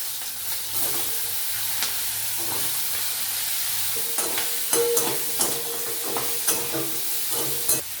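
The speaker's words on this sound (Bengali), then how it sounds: "এই কড়াইয়ের মধ্যে আমি আগে কাঁকড়াটা ভেজে তুলে রেখে দিই" Crab pieces fry in hot oil in a wok, giving a steady sizzle with scraping stir strokes and sharper crackles and pops toward the end, close and fairly loud with no talk.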